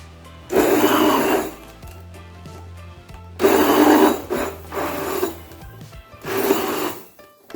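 A kitchen blender churns a chocolate milkshake in three loud bursts of grinding whir, each running about a second or more, with short quieter pauses between them.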